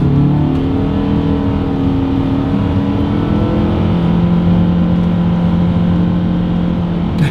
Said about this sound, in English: let's see how quickly we can get the new 2022 Outlander Sport here up to speed